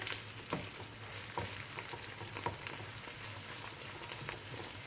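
Tomato and pepper paste sautéing in a pan for stuffed meatball filling, a soft continuous sizzle with occasional faint stirring scrapes, quiet and without talk.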